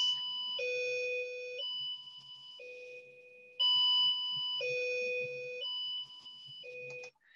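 Beeps from a speaker driven by a power transistor on a D11 board, a series of steady electronic tones that step between pitches and loudness levels, each lasting about a second, with no talking.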